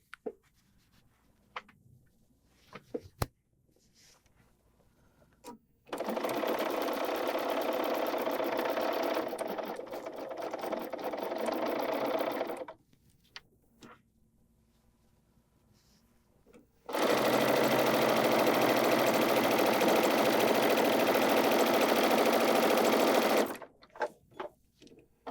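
Sewing machine stitching quilt pieces in two long runs, each a steady, close mechanical whir, separated by a quiet stretch of small handling clicks and rustles.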